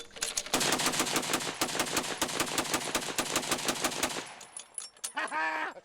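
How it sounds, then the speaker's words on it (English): Teddy Roosevelt's Gatling gun firing .30-40 Krag rounds, a loud rapid string of evenly spaced shots for about four seconds, then the firing stops and a brief voice is heard. "I actually fired the Gatling gun that was at San Juan Hill"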